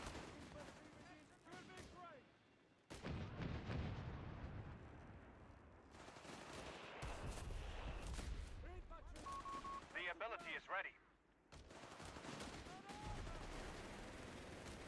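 Grenade and satchel explosions amid gunfire in the strategy game Company of Heroes 3, with dense battle booms and crackling shots heard under continuous commentary from a caster.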